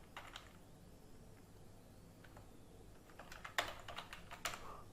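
Faint typing on a computer keyboard, with soft scattered key clicks in small irregular bursts, growing a little louder and denser toward the end, with no voices.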